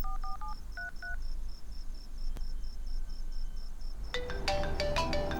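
A telephone keypad is dialed in a Tamil film scene: a quick run of clear beeping tones, a short pause, then more tone presses, followed by brighter chiming electronic sounds near the end over a steady low hum.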